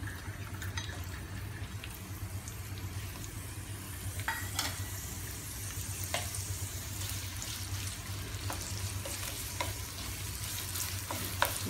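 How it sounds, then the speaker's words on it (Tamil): Onions sauté in a pan with a steady, fairly quiet sizzle, broken now and then by light scrapes and taps of a stirring spoon. "நம்ம இதே பேன்லேயே இப்போ வந்துட்டு இந்த வெங்காயத்தை போட்டு வதக்கிக்கலாம்."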